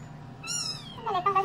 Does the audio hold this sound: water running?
no